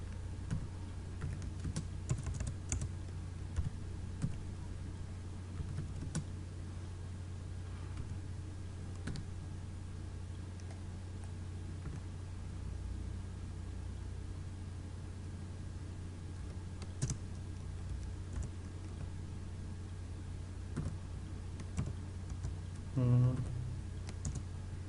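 A computer keyboard types text in CorelDraw X7, faint scattered key clicks and small taps under a steady background hum, with someone talking quietly at times over them.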